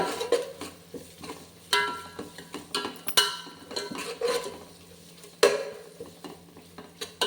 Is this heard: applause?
no